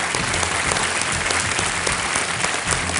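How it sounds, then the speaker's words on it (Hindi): A studio audience on the quiz show Kaun Banega Crorepati breaks into loud, continuous applause welcoming a contestant to the hot seat. The clapping is a thick, unbroken roar throughout. "तालियों के साथ इनका स्वागत शरद कुमार।"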